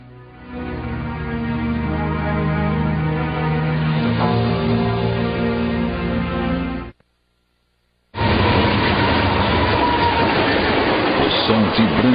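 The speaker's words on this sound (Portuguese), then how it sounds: "O som vibrante do tornado, semelhante ao de um trem, é bem conhecido pelas vítimas de tornados." A tornado's deep, vibrating rumble, much like a passing train, rolls on steady and loud, cuts out for about a second, then returns as a harsher, noisier roar.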